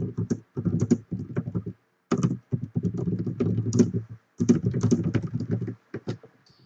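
Quick, steady keystrokes clatter across a computer keyboard in several sustained runs broken by brief pauses, close and fairly loud with no voices.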